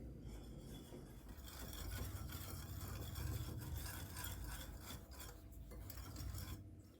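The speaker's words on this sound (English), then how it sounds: "Taking our whisk again, we're going to go ahead and mix it up." Whisk stirring cocoa powder, baking soda and salt through dry ingredients for peanut butter chocolate cookies: a steady close scraping and rasping against a bowl, continuous with no voices.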